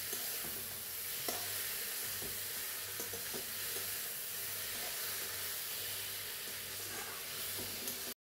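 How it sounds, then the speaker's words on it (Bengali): Dried kachki fish sizzles faintly in a pan as it is stirred, a soft, even frying hiss running unbroken and fairly quiet throughout. "এবার একটু নাড়াচাড়া দিয়ে নামিয়ে নেব"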